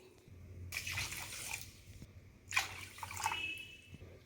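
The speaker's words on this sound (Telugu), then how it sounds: "3 కప్పుల వాటర్ కూడా పోసుకోవాలి" Water is poured into a pot of sugar in two short splashing bursts, faint and close, with quiet pauses between.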